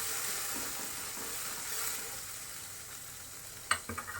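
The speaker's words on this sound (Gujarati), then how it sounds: "આપણે મિક્સ કરી લઈશું" A hot pan sizzles steadily, then a spoon scrapes and taps against it a few times near the end as a ground paste mixture is stirred.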